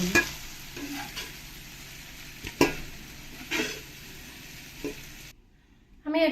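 Mushrooms and mixed vegetables sizzle and fry in a pan for mushroom pulao, with steady crackling broken by a few louder clatters of stirring, then a brief near-silence and a final burst of sizzle.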